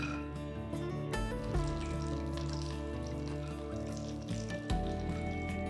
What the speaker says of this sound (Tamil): ஒரு சின்ன சாஸ்பேனில் நான் ஒரு பெரிய டேபிள் ஸ்பூன் அளவுக்கு நெய் ஊற்றுறேன் ஃபஸ்ட்டு நம்ம முந்திரியை ஆட் பண்ணிக்கலாம்